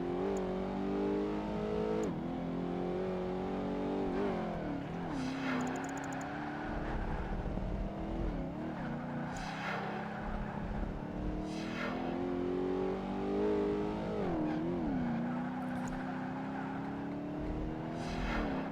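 Porsche 959 engine in Project Gotham Racing 2 on a circuit track, revving and shifting continuously through gears with rising and falling pitch, loud and steady throughout, with occasional tire skids.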